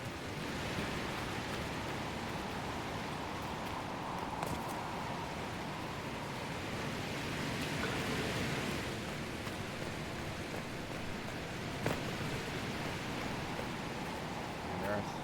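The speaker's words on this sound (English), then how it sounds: "Well, I hear a waterfall." A waterfall in the video game Dragon Age: Inquisition roars as a steady, broad rushing wash, continuous and even throughout, with faint speech and small game sounds mixed in.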